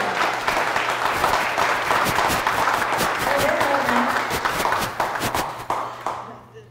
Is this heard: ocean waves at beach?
no